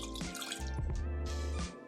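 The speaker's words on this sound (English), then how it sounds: "now we're gonna add in our cornstarch slurry" Cornstarch slurry is poured into a sauce for air fryer chicken, giving a close, continuous liquid splash and trickle with a few brief surges over about two seconds.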